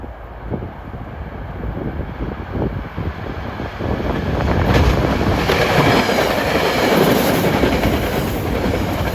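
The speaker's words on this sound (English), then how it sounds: "the horn you hear blowing for Chestnut Street is train 76, route from Port Jervis to Hoboken" Passenger train 76 on the Port Jervis to Hoboken route passing near Chestnut Street in New Jersey, with a rumble of wheels on rail that grows louder and steadier halfway through, close by and continuous.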